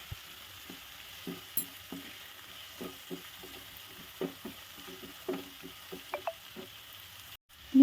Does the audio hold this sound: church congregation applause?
no